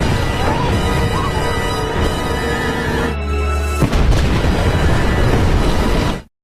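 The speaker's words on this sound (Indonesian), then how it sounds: "Mereka mengupload video yang menunjukkan bahwa kediaman presiden atau White House saat ini sedang meledak." A loud, sustained explosion roar from a hacker film scene showing the White House blowing up, a dense rumbling wall of sound with a brief dip and a sharp burst midway before cutting off.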